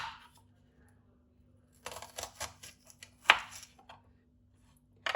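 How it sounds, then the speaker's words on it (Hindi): A knife chopping onion on a cutting board, a handful of quick sharp chops in short irregular bursts separated by near silence. "इस तरह प्याज को भी हम वैसे ही काटेंगे।"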